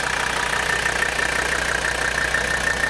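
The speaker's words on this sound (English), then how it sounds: "So you can hear the car running. There's the beautiful diesel sound." Steady idle of a 1984 Mercedes 300D's 3-liter turbocharged five-cylinder direct-injection diesel, heard from close by as an even, continuous drone with no breaks or revving.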